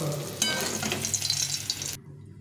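Small fish frying in hot oil for a Bengali winter-vegetable fish dish, giving a loud, close, steady sizzle that cuts off abruptly near the end, with no voices.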